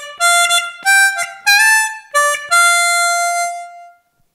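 A diatonic harmonica plays the first call phrase of a beginner blues, drawing on the fourth and fifth holes. Clear, bright, reedy notes come in short repeated bursts, the last held note fading out.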